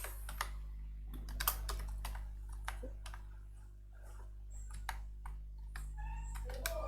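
Rapid, irregular clicking of computer keyboard keys as text is typed into an Excel spreadsheet, close and fairly quiet over a steady low electrical hum, with no talking.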